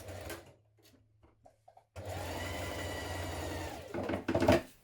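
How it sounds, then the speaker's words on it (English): A sewing machine stitches around the curved edge of welt pocket pieces with a 1 cm seam, a steady close whirring run of about two seconds after a few short taps, ending in quick bursts. "we're going to stitch around the curved edge like this"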